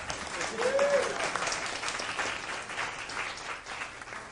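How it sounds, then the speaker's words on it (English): Applause from the audience at an Atlanta magic show carries on as volunteers come up to the stage, a sustained, fairly loud patter of many clapping hands that fades gradually, with a voice speaking over part of it. "all of this applause is for you"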